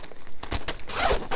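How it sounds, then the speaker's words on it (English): Zipper on a Melt Cosmetics makeup bag from a Nightmare Before Christmas collection, with a Jack Skellington and Zero icon pull, slid open in a few quick, close rasping pulls with no talk over it. "you have this Jack Skellington and Zero little icon zipper"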